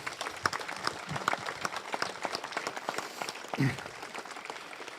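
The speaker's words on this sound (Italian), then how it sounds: "vorrei anche fare un applauso a tutti questi signori" Applause from an Alpini regional gathering crowd in Vittorio Veneto, scattered, uneven clapping of moderate loudness that thins out over several seconds, with faint murmuring in the background.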